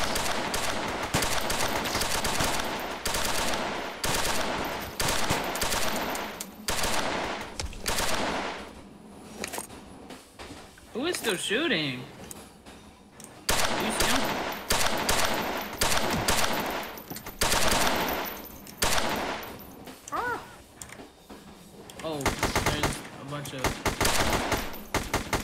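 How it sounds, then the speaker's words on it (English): Rapid automatic gunfire bursts in a first-person shooter game, Object N, repeat through the scene, loud and close, with players talking over and between the shots. "who's shooting me?"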